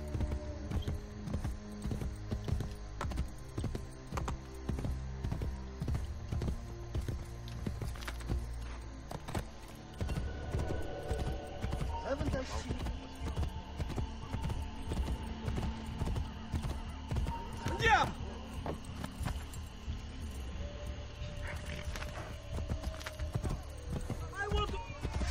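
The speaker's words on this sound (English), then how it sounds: "Should really call a horse now." Horse hooves clip-clop at a steady gallop in the Assassin's Creed Brotherhood video game, close and continuous for the whole stretch, with occasional whinnies, game music and someone talking over it.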